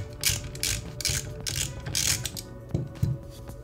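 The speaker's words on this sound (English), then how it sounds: "Use our 10 millimeter socket to remove" Ratcheting 10 mm socket wrench loosening the lower foot nut on a Fox or RockShox mountain bike fork, with a rapid series of close, loud ratchet clicks in several quick bursts.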